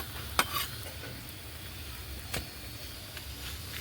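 A semolina paratha fries in oil in a pan with a soft, steady sizzle, broken by a few sharp utensil clinks, quiet and close.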